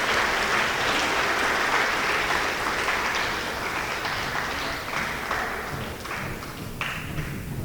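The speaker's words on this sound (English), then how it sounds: "Okay, a round of applause again for those." A round of applause from the audience at a junior high awards program, steady crowd clapping that thins slightly toward the end, with a few sharper individual claps standing out.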